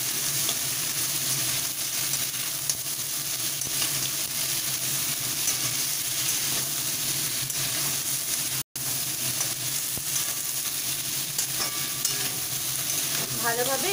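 Crab pieces fry in hot oil for a spicy crab curry, a steady close sizzle and hiss with occasional stirring scrapes, unbroken except for one brief dropout.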